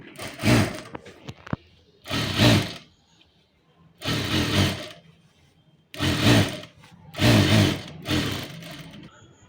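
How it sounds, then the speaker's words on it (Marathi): A sewing machine runs a double line of stitching on a blouse sleeve, sounding close and loud in five distinct bursts of steady whirring, each about a second long, separated by brief silences. "परत आपल्याला डबल टिप इथून पण मारून घ्यायची आहे."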